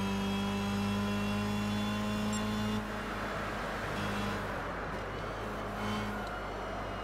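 Racing car engines in Gran Turismo 6 drone steadily and loudly, a sustained tonal hum with layered harmonics that shifts slightly partway through as another car's engine blends in. No one speaks.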